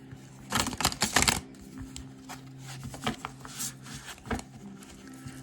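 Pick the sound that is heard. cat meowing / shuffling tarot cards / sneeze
shuffling tarot cards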